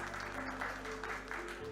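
A crowd at a college-to-corporate HR summit clapping steadily, a dense patter of many hands at moderate volume with a low hum underneath.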